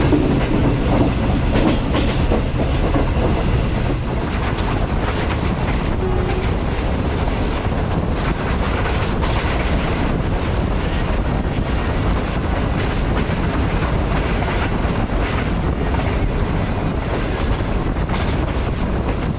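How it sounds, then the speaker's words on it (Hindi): Green Line passenger train travelling at night toward Rawalpindi railway station from Lahore, heard from inside a carriage: a steady, loud rumble with continuous clickety-clack of wheels over rail joints, no talk. "ट्रेन हमारी आहिस्ता आहिस्ता बढ़ रही है रावलपिंडी रेलवे स्टेशन की तरफ"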